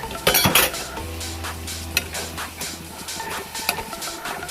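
Metal spoon scraping and clinking against a pan as tomato paste is stirred into frying paneer, with a low steady sizzle underneath and a few sharper clinks, close and fairly loud.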